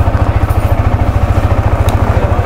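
Yamaha R15 V4 motorcycle engine running close by at idle, a loud, even, rapid low thumping pulse with light mechanical clatter.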